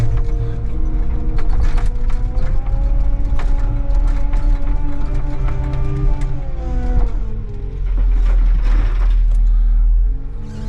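A small John Deere machine with a bucket works through mud, its engine running steadily and loud up close with clanking, ratcheting mechanical noise and a brief dip in the drone near the end.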